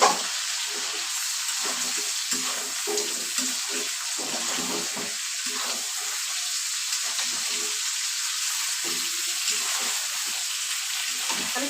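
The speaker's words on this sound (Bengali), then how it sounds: "আমি চিকেনটা এরকম লাল লাল করে ভেজে নিচ্ছি" Chicken pieces fry in a pan until reddish-browned, a steady close sizzle and crackle running throughout with faint voice and light stirring underneath.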